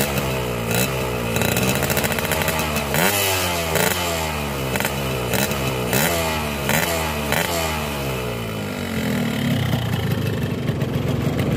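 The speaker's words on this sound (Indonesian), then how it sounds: "Dan kita geber dikit ya." A two-stroke motorcycle engine on low-smoke oil during a smoke test, blipped in a quick series of loud, rising and falling revs, then settling back to a rough, buzzy idle.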